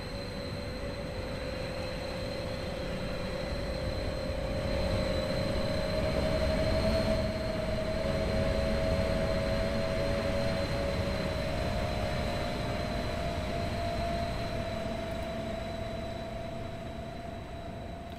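Steady rumble of a British-route train running in the Train Sim World 4 video game, with a sustained tonal whine drifting slightly in pitch over continuous wheel and motor noise at a constant level.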